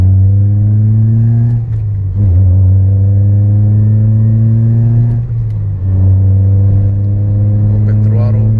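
Tuned car engine pulled at open throttle from low RPM, a loud close drone climbing steadily in pitch, with two brief dips as the gears change before it pulls again.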